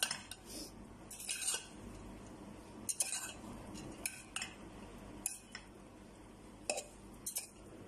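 Utensil stirring fried vegetables into Indomie noodles in a pan, irregular metallic clinks and scrapes spaced through a quiet kitchen, fairly close and soft.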